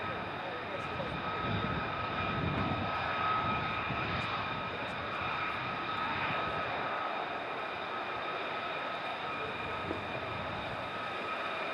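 F-15 fighter jets at RAF Lakenheath, a distant steady engine roar and whine that lingers across the whole stretch, with faint voices in the background.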